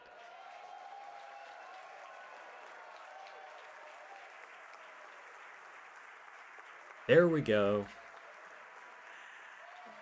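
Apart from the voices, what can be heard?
excited crowd cheering at Falcon Heavy booster landing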